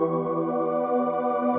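A sustained, airy heaven pad synth from the Nexus Angel Kiss preset holds a bright chord, smooth and steady at an even level, cutting off right at the end.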